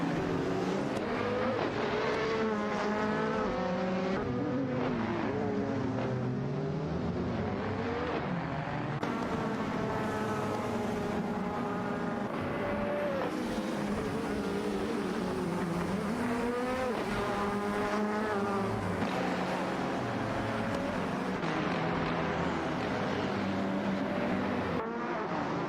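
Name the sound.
race cars including Porsche 919 Hybrid racing in video game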